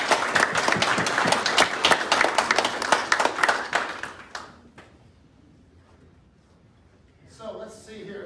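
A small audience at a police ceremony applauds officers receiving commendation bars, loud rapid clapping for about four seconds that thins out to quiet, with a voice speaking briefly at the end.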